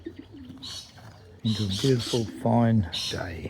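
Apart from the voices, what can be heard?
birds outside in the morning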